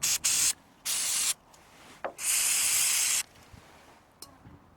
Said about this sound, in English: Now I'm going to use my choke and carb cleaner just to sort of break any excess away.